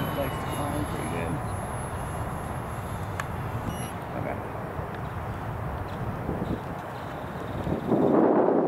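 The motor of a 1.2 m CCM Riddick RC flying wing drones steadily at partial throttle while the plane climbs on its maiden flight, heard from the ground with people talking over it and a louder rush near the end.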